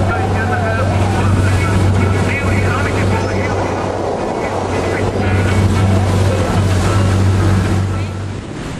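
A motorboat engine drones loudly over rough sea off the Na Pali coast, Hawaii, with constant wind buffeting and splashing waves.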